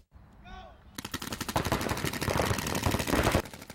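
Paintball guns fire in a rapid, dense volley at MVP Paintball in Syracuse, loud and continuous for a few seconds after a brief vocal sound, then cutting off abruptly.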